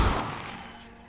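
Revelio revealing spell cast in Hogwarts Legacy, a single soft, booming pulse that swells at once and then fades away over about a second, fairly quiet.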